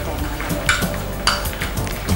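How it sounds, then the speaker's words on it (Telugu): Boiled chana dal goes into a pot of wheat rava payasam cooked in milk: a spoon clinks against the vessel and stirs, with a few sharper metallic taps over a low, steady background. "ఈ శనగపప్పు ఇందులో వేసేసుకోవాలి"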